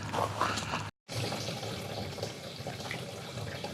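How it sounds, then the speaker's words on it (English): Water from a garden hose runs steadily into a storage barrel, a continuous rushing and splashing with a brief cutout partway through. "I ran a garden hose, and now I'm filling it up"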